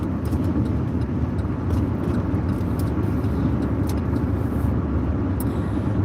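Constant low road rumble and engine drone from inside a car driving in light morning traffic, steady and close, with faint ticks and clicks above it and no talking.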